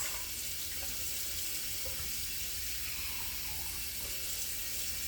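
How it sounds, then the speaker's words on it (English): Water pouring into a pot of mulberry juice while making mulberry jelly, a steady continuous splashing hiss running unbroken throughout at moderate level, with no talking. "Now adding water to this is not going to hurt it at all"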